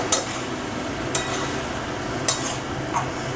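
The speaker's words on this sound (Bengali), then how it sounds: "এবারে মশলার সাথে আবার সবজিটা একটু হালকা করে কষিয়ে নিতে হবে।" Spices, flat beans and potatoes stir-fried together in a pan give a soft, steady sizzle, broken by a few sharp clicks of a spoon against the pan.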